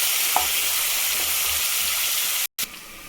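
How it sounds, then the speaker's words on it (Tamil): Onions sautéing in a pan for mint rice give a steady, close broadband sizzle with a few light stirring scrapes. The sound drops out abruptly for a moment near the end, then the frying resumes. "வெங்காயம் வதங்கிடுச்சு."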